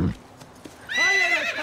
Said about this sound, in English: She's a splendid horse. Aye. Thoroughbred, I'd say.